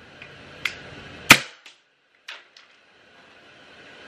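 A small Glock BB gun firing at a trash can: a few sharp cracking shots spaced apart, one much louder than the rest, with metallic clicks and a quiet room between them.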